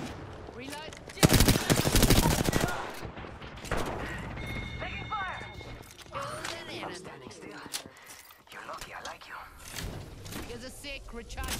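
Heavy gunfire in a battle royale shooter, with rapid automatic bursts and single shots in dense volleys that sound loud and close, while a player talks over the fighting.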